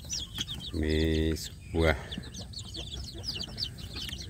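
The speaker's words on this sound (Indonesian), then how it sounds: "ini anak ayam kampung saya mau makan pur ya sedulur" Free-range village chicks in a box chirp and cheep with high, rapid peeps throughout while pecking at feed, as someone talks close by over them in short bursts.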